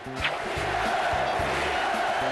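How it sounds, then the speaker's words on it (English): A large Boston Garden basketball crowd chants "Beat LA" in a steady two-beat rhythm. The dense roar of voices repeats at an even pace, loud and echoing through the arena. "You hear the crowd is chanting to the Sixers?"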